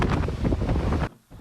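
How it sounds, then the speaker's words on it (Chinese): Strong, gusty northeast monsoon wind reaching force 11 in Hengchun, Pingtung, Taiwan, roars loudly and steadily across the microphone, then cuts off abruptly near the end and leaves a brief lull. "风声咻咻叫"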